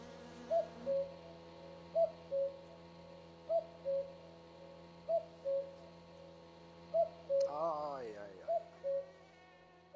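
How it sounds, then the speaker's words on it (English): A cuckoo calls repeatedly in the My Summer Car video game, steady two-note hoots repeating every second or so at moderate distance over a low ambient hum, with a brief louder noise near the end. "We shall go to sleep to the sounds of the cuckoo."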